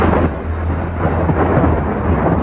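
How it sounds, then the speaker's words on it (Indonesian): Heavy rain falls with thunder rolling through it, a dense, loud, continuous wash of downpour over a deep low rumble, with no voices. "hujan turun cukup deras"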